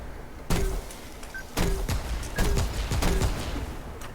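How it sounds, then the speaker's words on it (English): A Meridian grenade launcher in Remnant 2 fires regular grenades, producing four loud, heavy thumping shots at uneven intervals with short ringing tails, with no one speaking. "I have my Meridian here, which I can shoot regular grenades"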